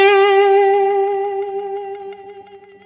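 A single sustained electric guitar note rings out with a gentle, even vibrato, slowly fading as it decays.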